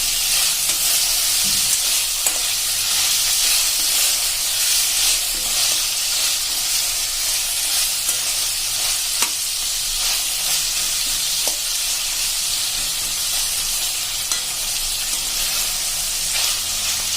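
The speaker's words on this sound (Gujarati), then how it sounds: "અને આ રીતે આપણે 2 થી 3 મિનિટ આપણે કન્ટિન્યુ આ રીતે ચલાવશું." Bitter gourd sabzi sizzles loudly and steadily in a pan over a medium flame, a close, continuous hissing fry broken by faint scrapes as it is stirred, with no voices.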